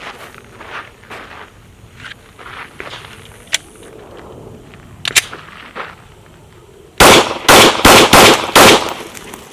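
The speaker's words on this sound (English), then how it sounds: "I'm going to shoot from the same range, except this time I'm going to fire faster" A handgun fired quickly at steel targets, six loud sharp shots in fast succession after quieter shuffling and clicks.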